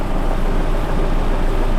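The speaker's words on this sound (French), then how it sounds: "le bruit que vous entendez, en fait, c'est un injecteur qui prend de l'air" Steady, loud mechanical rumble of a running car engine with a continuous airy hiss from an injector drawing air, heard close up with no talking.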